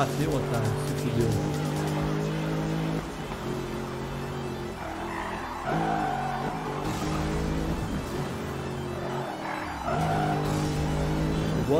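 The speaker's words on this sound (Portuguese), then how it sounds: "Eu gosto desse estilo de jogo que você dá um drift e o carro corre pra cacete." Cars drifting with tire squeal in the racing game Need for Speed Rivals, engine drone steady throughout with harmonic skid tones and brief crash-like bursts, someone talking over much of it.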